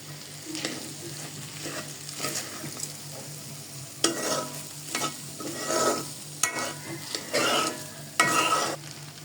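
Khichdi with green peas, turmeric and chili powder being sautéed in a pot: a continuous sizzle under irregular, close spoon scrapes and stirring strokes that come in bursts.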